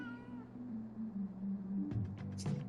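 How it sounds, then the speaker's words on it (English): A cat meows in the video game Life is Strange True Colors, several short high meows near the end over a steady low background hum. "Wait, do I hear a cat somewhere?"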